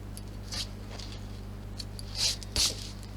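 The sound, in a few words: scissors trimming thread tails on a purse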